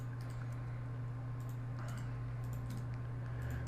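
Soft, scattered clicks sound close at a computer against a steady low electrical hum while items are selected and deleted in Puppet Producer software, a few taps at irregular intervals.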